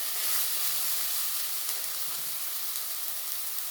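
Ground cumin, coriander and pepper paste fries in a hot pan while fish balls are being made. A steady, loud sizzling hiss runs unbroken throughout, close by, with no talking.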